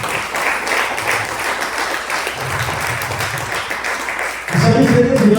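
A church congregation applauds continuously, filling the room with dense clapping that swells louder in the final second.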